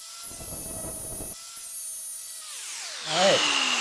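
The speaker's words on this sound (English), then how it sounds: "So what I'm going to do is grind this down and then grind this off" A grinder wheel cutting down a stuck universal joint coupler on a BCS brush mower, a loud, close high-pitched whine that holds steady, sags in pitch as the blade bites, then flares into harsh grinding.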